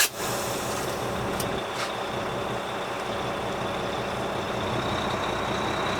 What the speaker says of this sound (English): I will pull forward a few feet. I will apply my service brake.